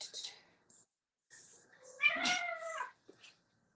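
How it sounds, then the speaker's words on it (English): Pet cats play fighting indoors, with short meows and yowls in bursts, a longer harmonic caterwaul in the middle, and quiet gaps between. "our kitties are fighting"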